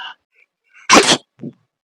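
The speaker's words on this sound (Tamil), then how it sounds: "இந்த பொண்ணு தும்மல் போடுது" A girl sneezes once, sharp and close, in an otherwise quiet room, followed by a softer short exhale and faint murmurs before it.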